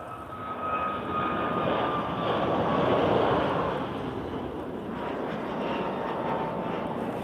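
An airplane takes off at Lisbon Airport, its engine roar building to a broad, steady rumble that peaks and then eases slightly, heard from a distance with no talk.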